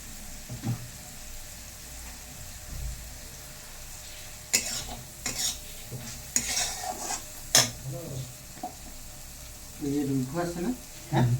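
Spice masala fried and stirred in a pan, with scraping and clinking of a utensil against the pan in bursts over a soft background sizzle, and people talking intermittently.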